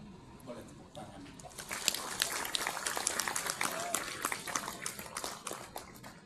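Audience applause at a university graduation ceremony, dense clapping building from quiet after the first second and holding steady and fairly loud to the end.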